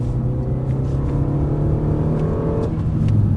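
A car engine revs up steadily while accelerating out of a corner at Circuit de Dreux, its pitch climbing smoothly before dropping as a gear changes near the end, heard from inside the car.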